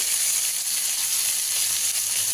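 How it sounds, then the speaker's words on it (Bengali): Ridge gourd and potato frying in a pan, a continuous bright sizzle with steady crackling, close and even, no voices. "নাড়াচাড়া করে ঝিঙে আলুটা একটু হালকা ভাজা হয়ে গেছে ঝিঙেটা"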